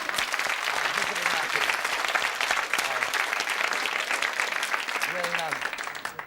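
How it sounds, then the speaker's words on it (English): Studio audience on a 1970s British TV quiz show breaks into sustained applause, loud and dense clapping throughout, with a voice speaking over it in places. "A special applause."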